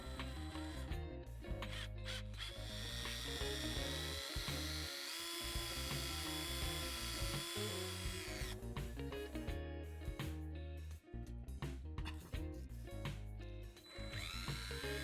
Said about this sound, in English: I use my trusted method of sanding the axles with my drill and a piece of emery paper.